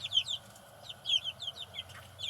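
Chickens cluck in a series of short, bright bursts, repeating in uneven clusters at moderate distance over a faint low background hum.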